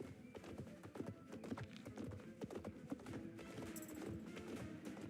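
Noriker horse walking slowly, hooves clip-clopping in an unhurried, fairly regular rhythm at close range, with faint background sounds and no talking.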